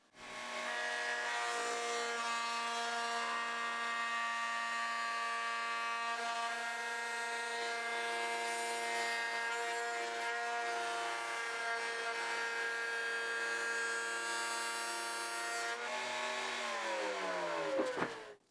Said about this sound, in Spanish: usando este juego de fresas de Rockler, podía usar una fresa de corte al ras para recortar todo el material sobrante